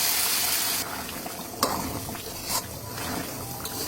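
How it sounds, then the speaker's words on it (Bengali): Boiled beef goes into a pan of soybean oil with cumin and onion, and a loud hiss of frying starts suddenly. Sharp clatters of stirring break in now and then. "আমি এখানে দিয়ে দেবো সিদ্ধ করে রাখা গরুর মাংস"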